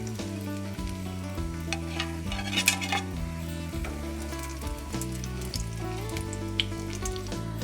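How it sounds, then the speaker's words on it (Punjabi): Lachha tikki fry in hot oil in a pan with a steady sizzle and occasional utensil clinks, set under a prominent music track. "ਇਹਨਾਂ ਨੂੰ ਵੀ ਹੁਣ ਅਸੀਂ ਉਲਟਾ ਪਲਟਾ ਕੇ ਚੰਗੀ ਤਰ੍ਹਾਂ ਫਰਾਈ ਕਰ ਲੈਂਦੇ ਹਾਂ"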